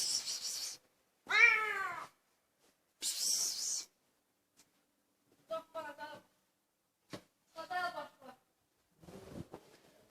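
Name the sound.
cats fighting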